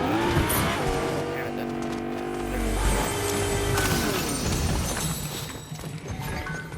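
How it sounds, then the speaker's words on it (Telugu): A car drives in the Fortnite video game, its engine shifting pitch up and down with tire noise and impact sounds while players talk over it. "గ్యాస్ స్టేషన్కి వెళ్ళి ఈ పోయి కొండ ఎక్కుదాం. నువ్వు కారు తోలే."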